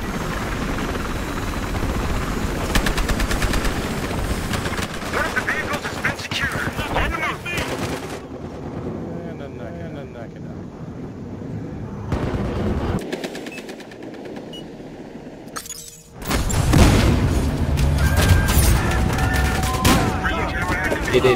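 Gunfire in Battlefield Hardline during a Hotwire match on the Downtown map: dense, loud bursts of automatic fire and blasts, a quieter stretch in the middle, then heavy shooting again at the end.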